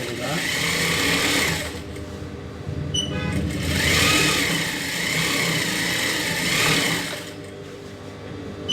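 A sewing machine stitches a silk skirt in bursts of fast, loud whirring, several runs of steady motor hum separated by short pauses, with a voice talking over it.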